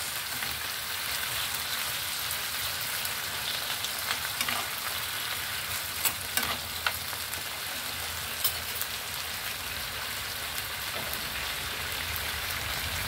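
Shrimp frying in a pan gives a steady, dense sizzle that crackles like rain on a surface, with a few sharper pops and spatters standing out, close and continuous throughout with no talking.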